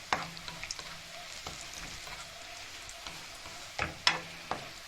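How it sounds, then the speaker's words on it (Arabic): Onions sprinkled with salt fry in a pan with a steady soft sizzle, broken by a few sharp clicks of a utensil. "ده البصل بتحمري، بتحطي بس عليه يعني سنة ملح كده عشان ايه يقرمش."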